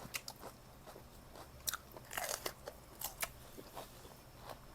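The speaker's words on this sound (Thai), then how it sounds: "อร่อยเพียงกรอบกรอบ" Close crunchy chewing and biting of grilled chicken with sticky rice, soft irregular crackly bites over a faint steady background hiss, no talking.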